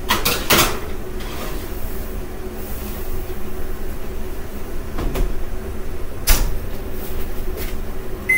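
An oven door opens and shuts with sharp clanks as a tray of chicken wings goes in, set against a steady low kitchen hum, with a few louder knocks spread across the moment.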